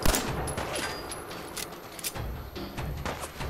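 Video game gunfire crackles in bursts of sharp, rapid shots, some clustered together, against a busy background.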